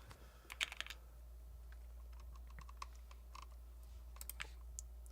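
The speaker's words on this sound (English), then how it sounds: "This is when we're typing in a multiplayer race or single player race or anything." Quiet, close keyboard typing during a typing race, with bursts of quick key clicks and short pauses over a low steady hum.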